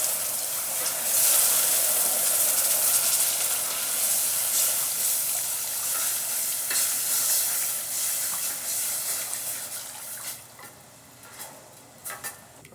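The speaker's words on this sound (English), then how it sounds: "I'm just going to slowly whisk this in and stir it until it starts to thicken." Milk is whisked steadily into a thickening sauce in a pan for a creamy broccoli and pearl onion gratin, giving a loud continuous sizzling, scraping swish that eases and turns into softer, scattered stirring taps toward the end.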